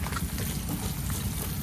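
Water poured into a pan of spiced, fried dried fish (shutki) during home cooking, giving a steady rushing sizzle that stays even and close throughout, with no voices.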